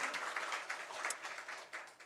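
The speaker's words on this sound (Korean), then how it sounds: "우리 하나님께 영광의 박수 올려드리겠습니다." A church congregation claps during a Christmas Sunday worship service, a faint, even patter of applause heard from a distance and lasting a couple of seconds.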